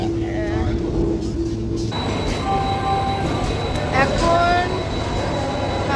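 A train rumbles through Kharagpur railway station with metallic wheel squeals, while people talk nearby over the steady mechanical noise.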